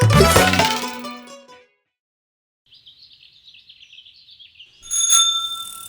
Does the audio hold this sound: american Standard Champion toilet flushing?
no